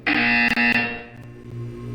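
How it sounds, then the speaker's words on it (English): Portal 2 test-chamber buzzer, one loud harsh electronic blast that holds for about a second, then fades into a lower ringing hum. "You will hear a buzzer."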